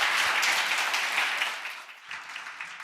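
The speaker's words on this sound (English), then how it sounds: "give this panel a big round of applause" An audience at a semifinalist showcase applauds a panel with steady, dense clapping that holds at a moderate distance and slowly tapers off near the end.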